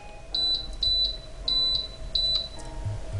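An Emeril Lagasse pressure air fryer's control panel gives four pairs of short, clear electronic beeps at an even pace, close by against a quiet kitchen background.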